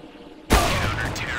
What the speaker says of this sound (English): I can hear fireworks.